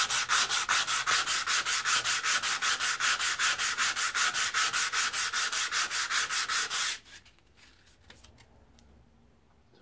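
An old edge tool being sanded by hand with quick, even back-and-forth strokes, about thirty close rasping passes in a steady rhythm, then the sanding stops and only faint room sound remains.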